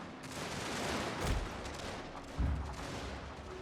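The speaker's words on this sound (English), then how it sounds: "setting up my troops to shoot down a lot of the fleeing ones" Musket volleys from troops in a strategy battle game, two distinct crackling fusillades about a second apart over a steady din of distant battle noise, fairly faint and with no talking.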